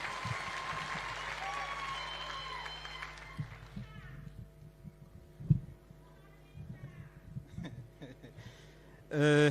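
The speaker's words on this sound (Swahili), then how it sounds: "Tumpigie makofi tafadhali akija." Applause greets the local Member of Parliament at a Kenyan presidential rally in Kirinyaga, starting as a dense, steady clapping that fades after a few seconds into murmurs, scattered claps and sounds from the crowd.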